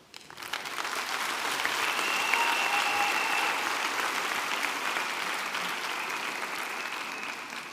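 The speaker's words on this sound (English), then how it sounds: "I would like to congratulate all our graduates, and I would like them to have a round of applause." A crowd at a Mandela University autumn graduation ceremony on the Gqeberha campus applauds the graduates. The clapping swells quickly into a steady, sustained wash and holds, with a few faint high whistles or calls ringing above it.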